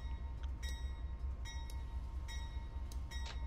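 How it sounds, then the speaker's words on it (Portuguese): A train rolls past on a map during a competitive Counter-Strike-style shooter match, a steady low rumble with repeated bright metallic tones, continuous and fairly loud, no voices. "O trem passou, ele ganhou o lado."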